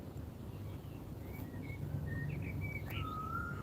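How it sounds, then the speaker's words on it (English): A common curlew calls in the background, several thin whistling notes and a rising call rising over a low steady rumble of outdoor ambience, fairly faint and with no talk. "that bird you hear in the background is a common curl"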